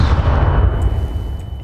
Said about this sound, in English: I threw a nade and it just instantly exploded in my face!